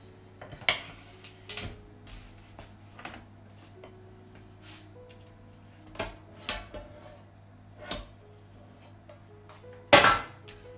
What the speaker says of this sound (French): Donc je démoule mon gâteau.